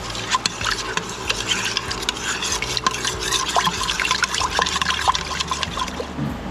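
A spoon stirs beef broth, onion soup mix and cream of mushroom soup in an Instant Pot, making rapid wet clinks and swishing liquid sounds in a steady, close rhythm with no talk.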